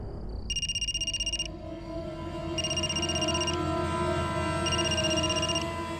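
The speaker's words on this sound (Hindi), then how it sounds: "ये कुंदन भैया को भी अभी ही फोन करना था" A phone rings in three separate bursts of electronic trilling, fairly clear over a low rumbling background hum.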